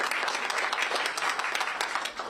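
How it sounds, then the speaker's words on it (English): Audience applause at a Boston early childhood education event with the mayor: dense, steady clapping from a crowd, fairly close, filling the whole moment without pause. "We need to clap for Ann B."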